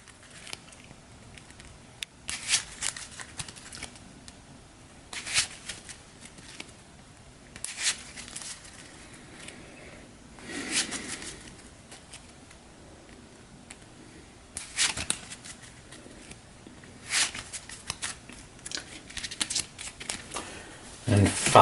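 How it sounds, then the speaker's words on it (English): Cards from the Harry Potter Hogwarts Battle deck-building board game are shuffled by hand in repeated crisp riffling bursts spread over about twenty seconds, close up and fairly quiet between the bursts. "We'll shuffle the rest of this up."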